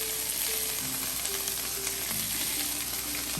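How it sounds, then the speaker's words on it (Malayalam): Spinach stir-fries in a pan for egg thoran, giving off a steady, moderate sizzle throughout. A faint tonal background plays underneath, and no one speaks. "നമ്മുടെ ചീര ഇങ്ങോട്ട് തട്ടി കൊടുക്കാം"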